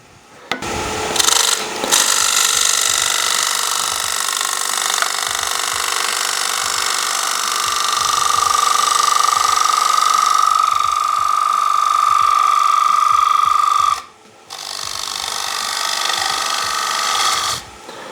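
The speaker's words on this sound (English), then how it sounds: "I was making a bit too much of a heavy cut there for that timber." A wood lathe gouge cutting the rim of a timber bowl gives a steady, loud rasping scrape with a faint whine, a brief pause near the end, then more cutting.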